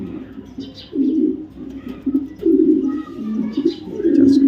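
Racing pigeons coo in repeated low, throaty phrases close by, with a few faint chirps in the background.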